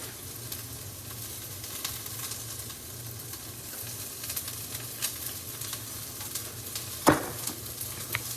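Spaghetti sauce sizzles in hot oil in a pan over a high flame as it is stirred, a steady close hiss with small crackles and one sharper scrape or clatter near the end.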